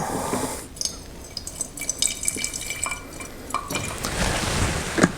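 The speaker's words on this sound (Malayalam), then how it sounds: "ഹൈഡ്രജൻ പെറോക്സൈഡ് ഞാൻ ഈ ഫ്ലാറ്റ് ബോട്ടം ഫ്ലാസ്കിനകത്തേക്ക് ഒരു 50 to 100 ml ഇടക്ക് ഒഴിക്കുകയാണ്." Hydrogen peroxide, about 50 to 100 ml, is poured into a glass flat-bottom flask, giving a soft trickle with scattered drips and small glassy clinks, close and fairly quiet with no talking.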